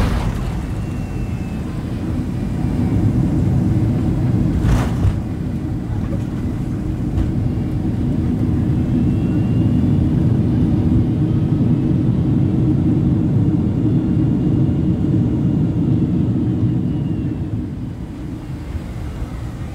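Steady, loud cabin roar fills a Delta jet on approach into Phoenix, a continuous low rumble with one brief click partway through and no talking.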